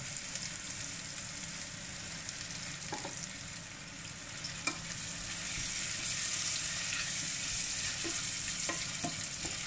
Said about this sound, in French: On fait bien revenir que la graisse, que le chorizo qui est en train de fondre avec là les oignons